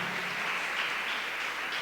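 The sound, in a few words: congregation applause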